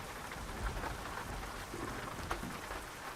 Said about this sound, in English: Rain again, huh?